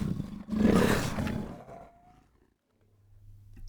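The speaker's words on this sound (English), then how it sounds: "Here we're growling into the mic to generate a hybrid black leopard Bengal tiger." A hybrid black leopard and Bengal tiger roar, built with the Reformer Pro plugin from a human growling into a microphone, comes as one long, loud, rough roar that fades, then a quiet low rumble follows.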